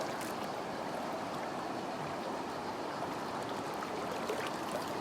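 River water flowing around a person's feet as they stand in the current, a steady close rushing and burbling wash with no voices over it.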